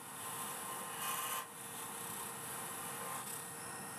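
Wooden bowl foot being turned off on a lathe, a soft continuous scraping rasp of tool against spinning wood, quiet and close with a couple of brief louder bites.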